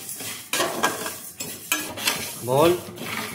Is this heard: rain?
no